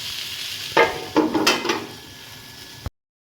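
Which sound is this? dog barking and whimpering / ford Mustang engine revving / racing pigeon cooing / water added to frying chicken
water added to frying chicken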